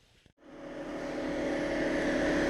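Cooling fan of an electric car running while the car preheats. After a brief click it starts up and swells into a steady, loud whooshing drone that keeps building, heard alone.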